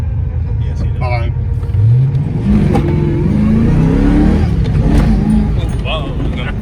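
A 1995 Mustang Cobra's engine rises and falls in a rising rev during a burnout attempt. The loud, close rumble is mixed with people talking.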